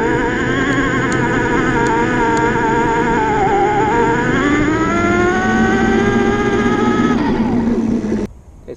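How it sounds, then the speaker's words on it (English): A Luna Cycle X-1 electric bike runs at full throttle up a hill, a steady rising motor whine with wind and road noise, loud and continuous for about eight seconds before cutting off abruptly. "We're right in the middle, so we're going to go full throttle up the hill."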